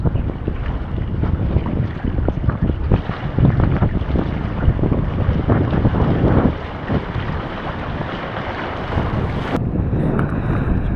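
Strong wind buffets the microphone beside open water during a fishing outing, a loud continuous roar with gusting surges and faint lapping waves underneath.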